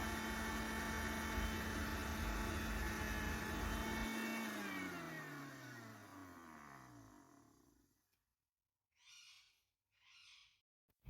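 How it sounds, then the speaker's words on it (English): A mixer grinder grinds salt in its jar to sharpen the blades, a loud, close whine that winds down as the motor slows to a stop, followed by two short, fainter bursts of grinding. "For 1 minute straight, you need to grind it."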